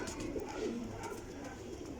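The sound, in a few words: pigeon cooing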